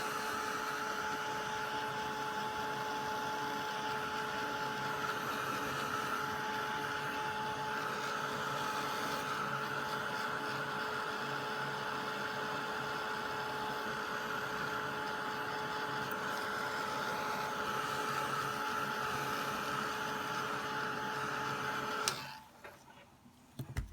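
Heat tool blowing on a layered Distress Crayon background, a steady loud whirring drone with a fixed pitch that runs for about twenty seconds and then cuts off near the end.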